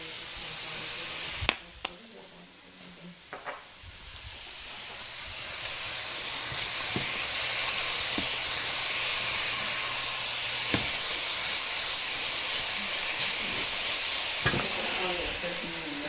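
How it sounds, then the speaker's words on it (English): Cauliflower steams in a hot pan at a low-carb cooking demo, a steady broad hiss building and holding with a few sharp clicks and knocks of utensils, no voices. "There's enough humidity inside of the cauliflower that it's going to steam up itself."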